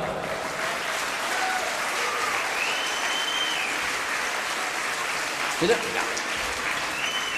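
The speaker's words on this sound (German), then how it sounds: "aber einen Applaus kriegen sie auf jeden Fall." An audience at a children's music disco show claps steadily for several seconds in a dense, continuous wash of applause, with a brief voice near the end.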